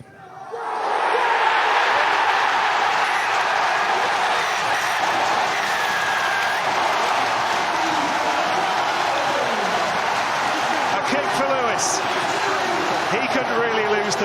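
Loud, raucous stadium crowd roaring and cheering continuously after a last-kick winning score by Leicester Tigers against Bath Rugby at Welford Road, a sustained dense wall of cheers.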